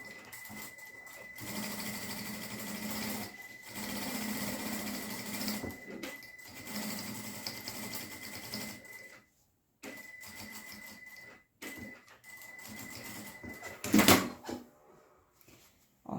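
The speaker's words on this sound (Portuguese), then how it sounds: "fiz a costurinha bem em cima do desenho, aí eu já uni a parte principal com o forro" A sewing machine stitches lining to the main fabric of a glasses case in bursts of steady rapid whirring, pausing briefly between runs and ending with a sharp clack near the close.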